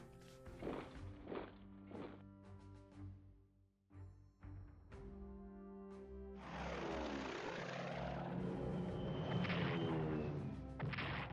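Aircraft in a WWII Pacific strategy video game drone with a propeller engine noise, heard after some short tonal game effects. The roar swells and holds loudly over the final seconds.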